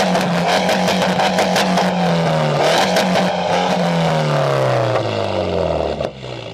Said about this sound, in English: a car with a signature boxer rumble